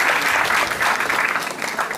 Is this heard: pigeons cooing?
no